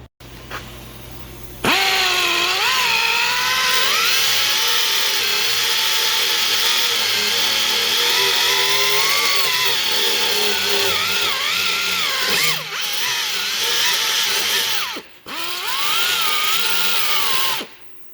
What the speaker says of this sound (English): This thing works great, getting rid of all that seam sealer